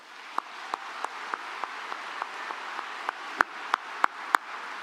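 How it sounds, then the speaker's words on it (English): Sparse, scattered clapping from an audience at a university spring commencement ceremony, a few distinct hand claps spaced out at an uneven rhythm over a soft background hum. "Let's give these folks a round of applause."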